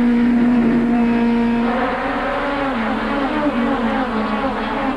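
Goody's Dash Series race cars with V6 engines roar loudly in a steady, droning pack, one strong engine note sliding slightly in pitch as cars run by on track, with no voices over it.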